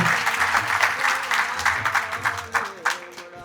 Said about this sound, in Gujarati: આ ભજન મંડળીને એકવાર તાળીઓથી વધાવી દઈએ